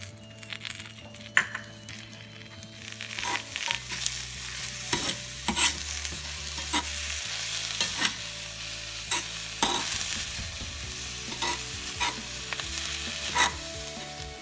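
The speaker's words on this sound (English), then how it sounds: "Now we're gonna wilt the spinach." Fresh spinach wilting and being stirred in a hot frying pan for a frittata, with a steady sizzle under repeated scraping strokes of a utensil, close and fairly loud throughout.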